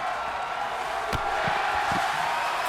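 A wrestling crowd roars in a sustained, dense wash of cheering, with a few thuds and slams punching through near the middle.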